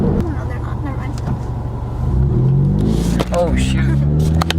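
A car's engine drones loudly from inside the cabin during a night drive in traffic, the low hum rising in pitch as it speeds up, with people chatting over it throughout.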